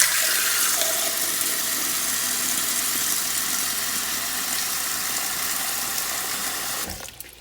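Steady cold tap water pours into a pot for several seconds, a continuous close rushing hiss that cuts off abruptly near the end.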